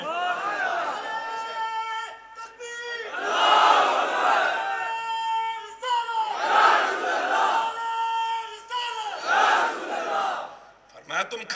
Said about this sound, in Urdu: نعرے لگ رہے ہیں مصطفیٰ کی وجہ سے۔